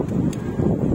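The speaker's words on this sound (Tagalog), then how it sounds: "Sobrang lakas ng hangin eh" Strong wind buffets the outdoors while auxiliary LED lights are fitted to a Mitsubishi Xpander, a steady low roar of gusts hitting the microphone throughout, with no talk.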